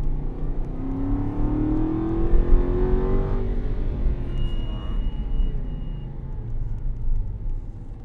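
An Aston Martin accelerates at full throttle on a race track, its engine note climbing in a loud sustained roar with a rising pitch sweep, then settling into a steady rumble as the car pulls away.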